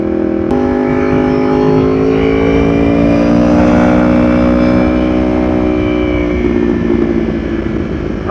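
A Yamaha R1 sport motorcycle accelerates hard in second gear, its engine note climbing steadily in pitch for several seconds under rushing wind, loud and close with no talking.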